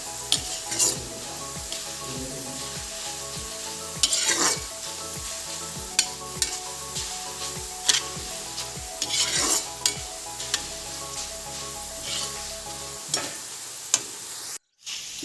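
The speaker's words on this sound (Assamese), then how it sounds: "আলুখিনি ভাজি" Potatoes frying in oil over a medium flame sizzle steadily while a utensil scrapes and stirs them in a regular rhythm of close, repeated strokes, without speech; the sound cuts off abruptly near the end.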